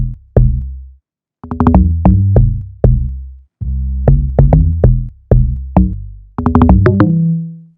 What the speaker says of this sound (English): And then we layer the log drums with a sub bass for depth.